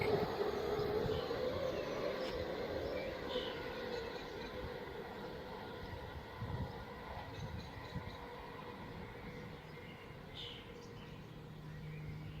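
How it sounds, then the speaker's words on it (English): A train rumbles past nearby at Newington, a loud, continuous roar of wheels and carriages that slowly fades as it moves away. "That train was delayed by around 2 minutes."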